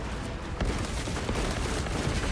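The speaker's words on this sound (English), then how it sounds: "The Titan fires at us." A huge Titan war machine in Space Marine 2 fires its weapon in a dense, roaring barrage of rapid blasts, loud and continuous, like heavy sustained gunfire close by.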